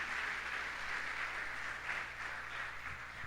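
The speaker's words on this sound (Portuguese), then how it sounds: "Aplauda ao Senhor" A church congregation applauding during a Pentecost service, a continuous moderate wash of clapping hands from many people, fairly even throughout with a slight swell near the middle.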